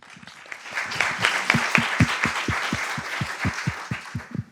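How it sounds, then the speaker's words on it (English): An audience at a city cultural event in Bellevue applauds council members with a loose, fairly sparse patter of hand claps, moderately close, building briefly and then thinning toward the end. "give them all and yourself a round of applause"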